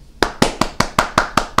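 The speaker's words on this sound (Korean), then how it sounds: "박수" Slow, evenly spaced claps, about eight sharp hand strikes roughly a fifth of a second apart, close and crisp with no voices.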